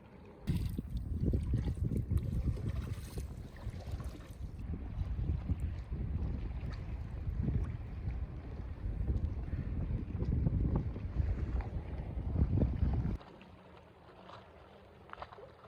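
Steady quartering wind rushing across the microphone outdoors on Suttle Lake, Oregon, gusty and loud throughout, dropping to a quieter breeze near the end.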